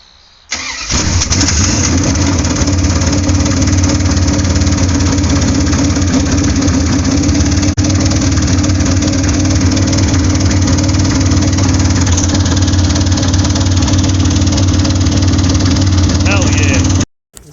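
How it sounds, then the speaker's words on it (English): A Dodge Charger engine cranks and catches, then runs at a loud, steady high idle up close for the full stretch before cutting off abruptly at the end. "we got the motor running, and we tried to idle it down"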